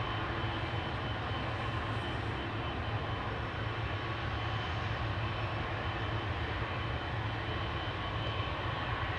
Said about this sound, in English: So this is Austrian flight 372 to Vienna, A320, 23 years old, first flight July 2001.